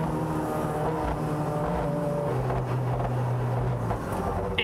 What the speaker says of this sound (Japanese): エンジンが全く吹けなくなり、 まるでポンポン船状態に。